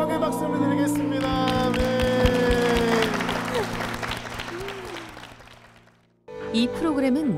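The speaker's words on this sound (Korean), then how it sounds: "주님께 영광의 박수를 드리겠습니다." A church congregation claps in praise during worship, with applause sounding over sustained music and singing that gradually fade, then a short pause before a voice speaks at the end.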